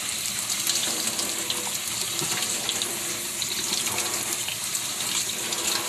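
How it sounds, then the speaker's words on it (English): A cold water tap runs steadily into a mason jar of sprouting mung beans being rinsed, a continuous close splashing gush lasting about six seconds with no talk. "Turn the water on cold. I'm going to rinse them."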